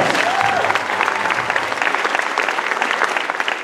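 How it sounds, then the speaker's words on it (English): Loud, dense applause from a pageant audience for the teen competition candidates, a full crowd clapping continuously and close, with a brief faint voice near the start. "Let's give them all a big round of applause."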